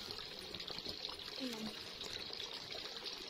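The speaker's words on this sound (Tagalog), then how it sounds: "Visitors are encouraged to wash their hands and mouth before entering the temple." Running water at a temple purification fountain where visitors wash their hands at Kuon-ji in Minobu, Yamanashi, a steady trickling, splashing flow close by with faint voices in the background.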